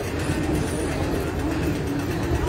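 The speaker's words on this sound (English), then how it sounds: "And a tram." A tram passes on a Melbourne street, a continuous loud rumble and rolling hiss close by that holds steady throughout, with faint pigeon-like cooing blending into the background.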